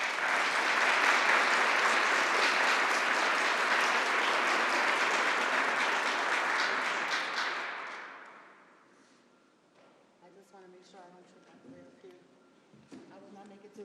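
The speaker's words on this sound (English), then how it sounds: "Give yourselves a round of applause" Audience gives a round of applause at a government gun-violence outreach announcement, dense steady clapping for several seconds that fades out, followed by quieter sounds and a voice.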